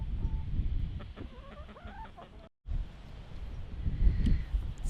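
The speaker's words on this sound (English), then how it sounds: "and some chickens." Backyard chickens clucking in a windy food forest, a soft run of short, repeated clucks close by over gusty wind noise.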